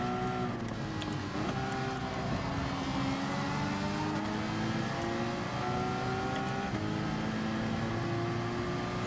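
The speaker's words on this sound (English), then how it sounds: "Cars are just driving by us like we're standing still." Race car engines whine and drone at Spa-Francorchamps in Gran Turismo 7 during a Manufacturers Cup race. The loud, sustained engine tones rise and shift in pitch as cars speed past, with no speech.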